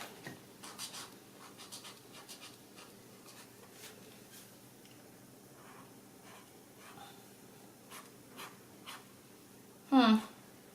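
A Zebra Sensations double-ended brush pen makes soft, faint scratchy strokes on paper in short repeated bursts, with quiet breathing around them and a brief louder squeak near the end.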